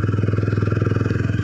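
A motorcycle rides along a road, its engine throbbing in a steady, fast pulse that stays loud and close, with constant low rumble and no talk.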